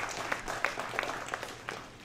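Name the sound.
audience applause at a community forum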